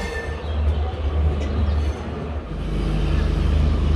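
The Garib Rath Express rolls into New Karimganj Junction in Assam, with a steady low rumble of wheels and carriages that builds and grows heavier toward the end, and no talk over it.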